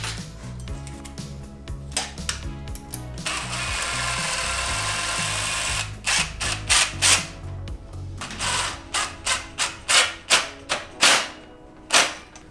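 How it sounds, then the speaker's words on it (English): Tape is pulled and wrapped around hose clamps on a 212cc mini trike, giving repeated sharp ripping strips and a long continuous unspooling hiss, followed by a series of distinct tearing bursts, all close and loud with no speech. "we're gonna tape from here all the way back to here so it doesn't look like a clamp and it looks like a professional bracket"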